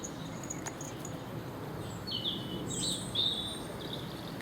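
Small birds chirp and trill by a garden pond, with a few brief high calls at moderate distance over a quiet outdoor hush.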